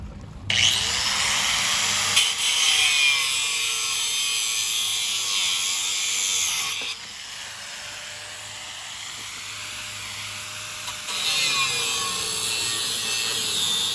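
A heater pipe in a school bus is cut off with a power tool, a loud continuous buzzing grind with pitch sweeps, easing midway and then rising again near the end.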